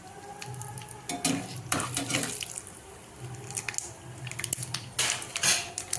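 Tempering seeds sizzle and crackle in foaming groundnut oil, with loud bursts of stirring and clattering spoon scrapes over a steady, fairly close frying hiss.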